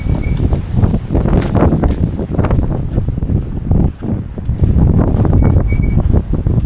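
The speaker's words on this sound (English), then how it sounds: "It's real windy out right now." Loud, steady wind buffeting the microphone outdoors in Prattville, Alabama, roaring and gusting continuously with brief dips throughout.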